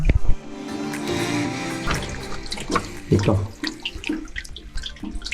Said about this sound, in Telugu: ఇక్కడ నుంచి మేజర్ పోర్షన్ ఆఫ్ వాటర్ అయితే వస్తున్నాయి అనమాట